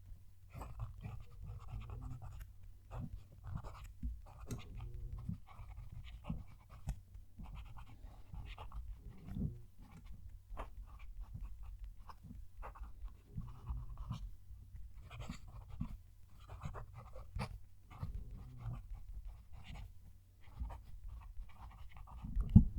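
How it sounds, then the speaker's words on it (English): A starter fountain pen from mainland China scratches across paper up close, a faint, continuous run of irregular little strokes over a low steady hum, with no voices. "I'm going to move the mic down to the page so you can hear the pen write"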